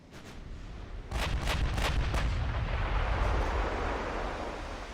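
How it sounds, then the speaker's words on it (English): Heavy 16-inch naval guns firing in the game Ultimate Admiral Dreadnoughts, a broadside of deep booming blasts that opens into a sustained rumbling roar, loud and continuous with no talking. "This time he's got 16-inch guns."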